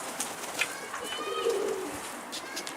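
Pigeons cooing in a loft of about forty birds, soft low coos close by with faint background noise and no talk.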